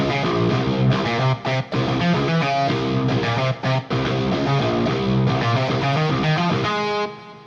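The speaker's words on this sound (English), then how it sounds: "Now we have a guitar riff" A heavily distorted guitar riff, made with the Odin 2 virtual guitar through a Guitar Rig 6 amp for a DOOM-style soundtrack, chugs loudly with brief choppy gaps and rings out to a fade at the end.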